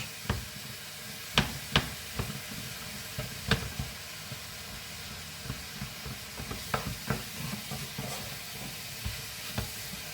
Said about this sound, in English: I'm going to cook this off now for a good 5, maybe 6 minutes, till that meat is really browned up